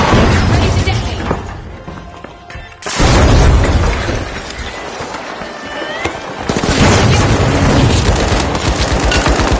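Explosions detonating in The Finals video game, loud booming blasts with crackling debris and gunfire-like bursts, rising again after a brief lull.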